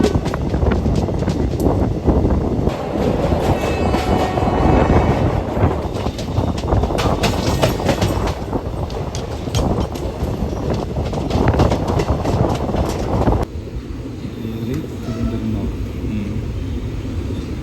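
The Kollam–Trivandrum passenger train rumbles along, a loud, continuous rolling roar with wind buffeting the microphone, dropping to a quieter rumble near the end.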